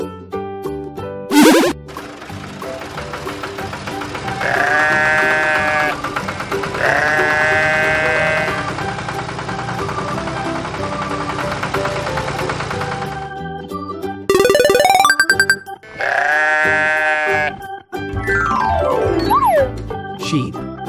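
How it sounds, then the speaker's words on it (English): Sheep bleating on a farm, a series of loud wavering baas repeated several times close up, separated by brief pauses. "Sheep."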